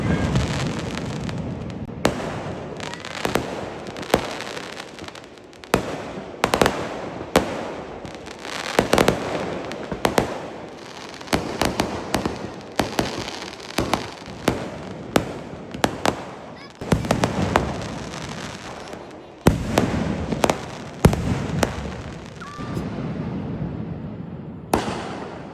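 Fireworks burst during a Pooram festival night in a dense, irregular volley of sharp cracks and booms, some close and loud, others rolling farther off, with faint voices in the background.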